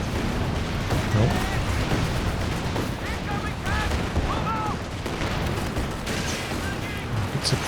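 Battlefield gunfire from a Company of Heroes 2 match, steady rattling shots and distant heavy thumps layered into a continuous dense din, with a commentator talking over the action throughout.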